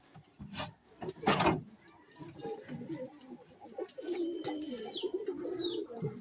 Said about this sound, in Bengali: আচ্ছা, এই একটা পায়রা।